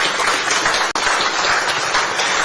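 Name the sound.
audience applause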